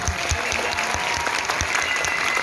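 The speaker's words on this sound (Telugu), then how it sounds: "ఈ లవ్లీ మ్యూజిషియన్స్కి గట్టిగా చప్పట్లు కొట్టండి" A crowd at a live music show applauds the musicians with loud, dense clapping that continues throughout.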